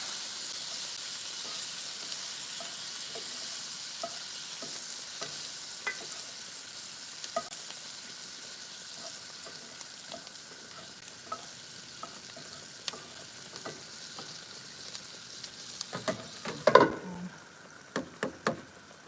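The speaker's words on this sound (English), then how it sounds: "Just keeping an eye on the pot pie noodles. Stir this around." Pot pie noodles bubble and simmer in a pot on the stove, a faint steady hiss broken by occasional soft spoon taps and stirring knocks that grow louder and busier near the end.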